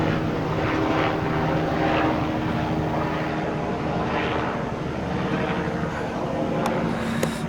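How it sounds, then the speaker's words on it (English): Big helicopter flying overhead, a loud, steady rotor and engine drone with a rhythmic beating pulse that fills the whole stretch. "And we got a big helicopter."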